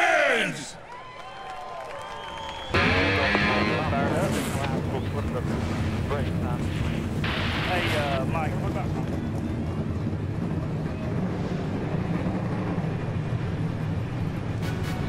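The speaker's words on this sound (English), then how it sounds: "Drivers, start your engines!" NASCAR Xfinity Series stock cars fire their engines at Iowa for the U.S. Cellular 250. After a quieter opening with voices, a sudden loud, growling roar erupts and then holds steady, thick and continuous, over crowd noise.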